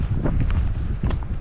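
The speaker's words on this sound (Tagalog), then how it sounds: "Parang malakas ang hangin." Strong wind buffets the microphone at Whatipu Beach, New Zealand, in a steady low roar, with gusty rumbling and faint rustling throughout.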